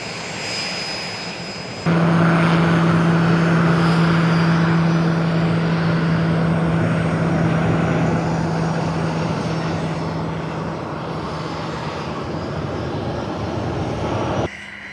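A-29 Tucano military turboprop aircraft engine runs loud and close, a steady droning roar with a strong constant tone that swells in abruptly and holds before dropping off at the end, with no voices.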